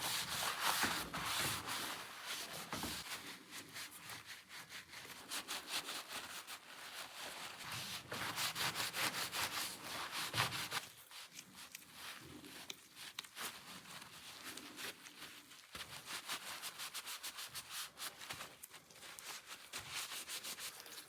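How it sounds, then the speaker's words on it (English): Scotch-Brite pad scrubbed gently over gunk on a tool room lathe part, a steady close-up rubbing and scouring sound that runs continuously without pauses. "This is just some Scotch-Brite, and I'm not being aggressive with it."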